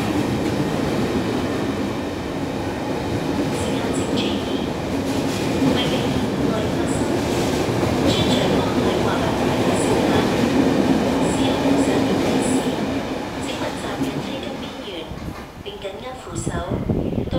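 A through train hauled by a single locomotive rumbles loudly through a station, a heavy continuous roar with rattling wheels that eases slightly near the end, with an announcement voice over it.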